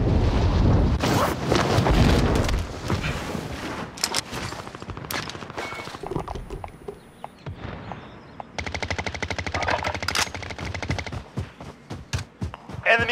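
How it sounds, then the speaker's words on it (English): Gunfire in Call of Duty Warzone, heard from the air: loud rapid machine-gun bursts and single shots rattle close by over rushing wind, with dense automatic fire near the end. "I'm getting shot in the air."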